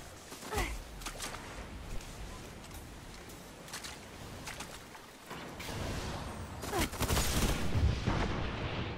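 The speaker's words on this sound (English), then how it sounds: "He dodged my rocket." Rocket launcher and shotgun fire in a Destiny Iron Banner multiplayer match, with several sharp blasts and booming impacts scattered across the clip, the heaviest cluster near the end, over game ambience.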